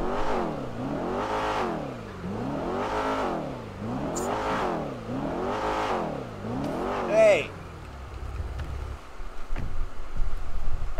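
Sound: car engine revving

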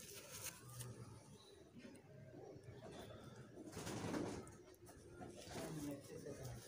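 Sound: pigeons cooing on a rooftop loft

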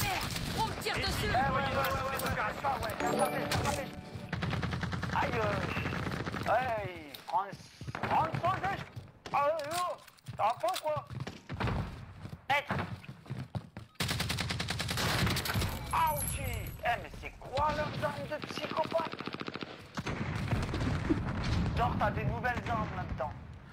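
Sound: gunfire in Call of Duty Warzone Resurgence video game

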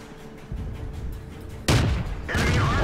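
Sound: tank cannon shot in video game

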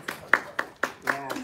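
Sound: people clapping for a finished resin piece

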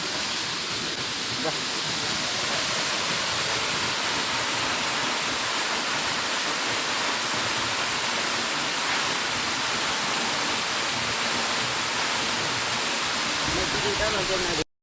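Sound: Mallem Gundam waterfall in Nallamala forest

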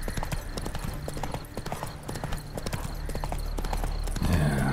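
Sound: horse Roach galloping in The Witcher 3 video game

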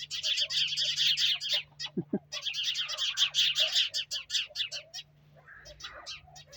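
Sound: chorus of sparrows chirping

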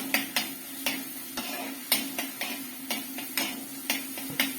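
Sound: curry leaves sizzling in hot oil for sardine curry

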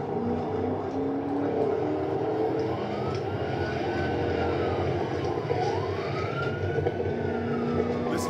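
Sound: V6 Dodge Charger GT transmission under hard acceleration

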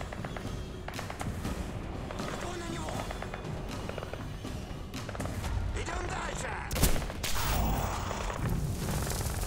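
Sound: gunfire in video game Singularity, shotgun and weapons

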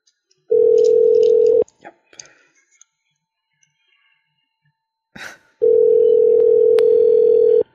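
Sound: telephone dial tone while calling a cell phone

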